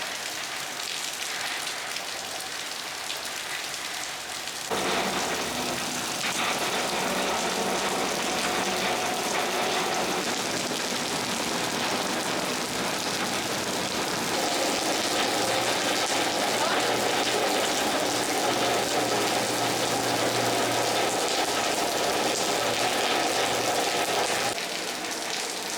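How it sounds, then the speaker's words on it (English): Steady rain falls outdoors in Pakistan as a dense, continuous hiss that grows slightly heavier partway through, with a faint low engine hum underneath. "It's raining."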